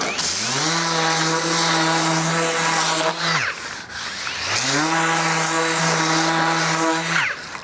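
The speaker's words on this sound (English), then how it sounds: "I'm gonna just pass with the sander like this at that angle, just ever so slightly." A power sander rounds over the edge of a wooden box beam in two long, loud, close passes, each holding a steady humming whir before dipping briefly between them.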